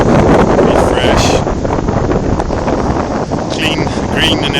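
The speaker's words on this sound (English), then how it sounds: "A bit windy today." Strong gusty wind roars loudly and continuously across the microphone at White Rocks beach in Northern Ireland, a heavy buffeting rush filling the whole stretch with no pauses.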